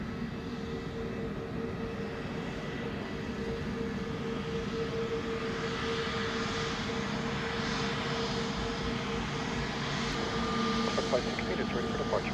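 A passenger jet sits on the runway at Montego Bay airport, its engines giving a steady, moderately distant whine and rumble while voices talk over it.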